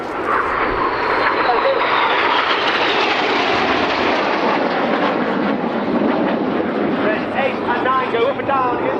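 Red Arrows jets diving low to about 100 to 200 feet over the airfield at an airshow, a loud continuous broadband jet roar with a falling whine, under a commentator's amplified voice.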